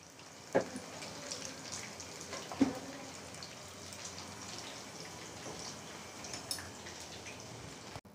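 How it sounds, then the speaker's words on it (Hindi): Chicken strips fry over high heat in hot oil, a soft continuous crackle and sizzle with a few sharper pops, quiet and steady throughout. "इनको अब तेज़ आंच पे फ्राई करेंगे।"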